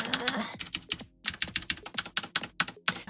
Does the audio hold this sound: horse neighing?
no